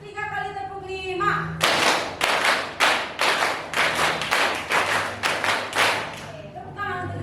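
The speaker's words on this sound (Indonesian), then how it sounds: "3 kali tepuk 5." A grade 8 class claps in unison in a steady, repeated beat of about a dozen loud, evenly spaced group claps, framed by a voice calling out before and after.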